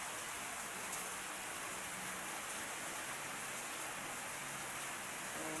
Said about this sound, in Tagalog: Naririnig nyo yung patak ng ulan sa bubong.